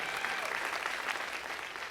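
An audience claps and cheers steadily at a televised talk, a dense, even wash of applause from a large crowd throughout.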